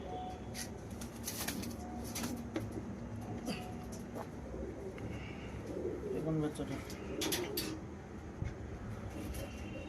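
Pigeons, including a young one, coo softly while wings flap in several sharp bursts, close by, with people talking intermittently underneath.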